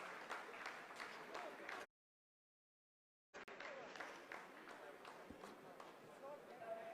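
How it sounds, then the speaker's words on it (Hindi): ISRO scientists applauding the end of a Chandrayaan-3 descent phase in the control room: dense, steady clapping, faint and somewhat distant, cut by a brief dropout before resuming. "आप इस तालियों के गड़गड़ाहट को सुन सकते हैं"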